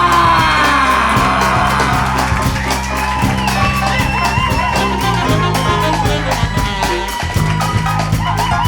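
A club audience at an improvised jazz and spoken word show whoops, yells and cheers to welcome a performer, loud and close, over a steady pulsing band groove with heavy bass underneath.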